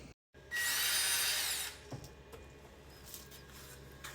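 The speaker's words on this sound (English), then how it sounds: "But now it's time to sand this side and get painting." A power sander runs across a wooden floor in one loud, harsh burst of about a second, then drops to a quieter background hum.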